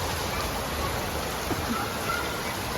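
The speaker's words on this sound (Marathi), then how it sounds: "किती जोरात आणि पाऊस" Hard rain falling around a home terrace in May, a thick continuous wash of noise at steady strength with no pauses.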